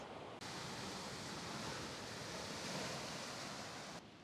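Steady rushing wash of surf, a continuous broadband roar of waves close by near a sea cave in Miyazaki, with no voices.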